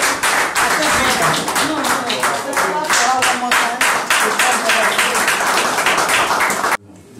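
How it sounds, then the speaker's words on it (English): Church congregation at a couples' night service clapping in a loud, fairly rhythmic burst of hand claps that continues for about seven seconds before stopping abruptly. "Let's clap for her one more time"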